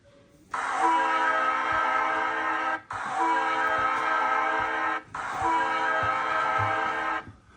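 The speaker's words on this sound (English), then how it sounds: "Hooted a cross diesel train behind them." A loud diesel train horn hoots three long, sustained blasts with brief gaps between them, close by and with no voices.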